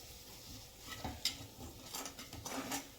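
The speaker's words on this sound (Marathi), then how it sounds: "हे सगळं असं व्यवस्थित परतून घ्यायचं" Masala with coriander leaves is sautéed in a pan for a Maharashtrian amti, with faint close stirring scrapes and a few light utensil clinks over a low, quiet sizzle.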